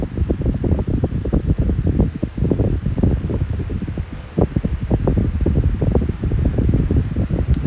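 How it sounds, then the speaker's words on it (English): A vintage 1975–76 Patton high velocity fan runs close by with a loud, steady whooshing and fluttering rush of air and a low pulsing rumble, with no talk. "I really do like that startup sound"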